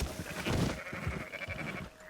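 Sheep bleating in the video game Red Dead Redemption 2 on Xbox, a few bleats over a busy game soundscape with background noise, heard close and fairly loud.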